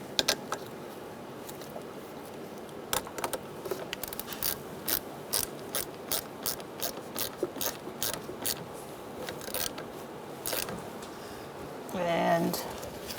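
A ratchet with a 10mm socket tightens a car battery terminal on a 2010-2013 Kia Soul 2.0L, giving a close series of sharp, regular clicking pulls with short pauses between strokes, while a person talks intermittently.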